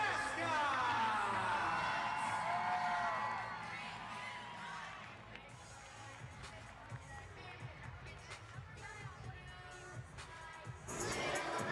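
A large indoor arena crowd at the RP Funding Center cheers and shouts during a mascot soccer game, loud at first then settling into a busier murmur with scattered whoops and children's shouts, rising again at the end.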